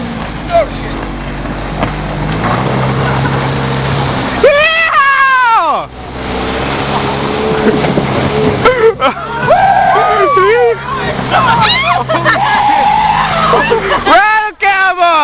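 A Jeep revs and churns through mud while towing a jet ski, engine notes surging and falling in loud bursts as tires spin and skid, with people shouting and talking throughout.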